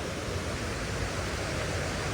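Heavy monsoon flow of water near a waterfall in Munnar: a dense, constant rushing roar that fills everything evenly and close by, without pauses or voices.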